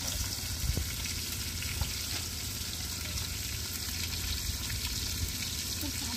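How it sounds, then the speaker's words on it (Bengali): Fish fries in a pan over a clay stove, giving a steady, soft sizzle and crackle throughout, with occasional faint pops and clinks and no talking. "চলো মাছটা ভেজে নিই।"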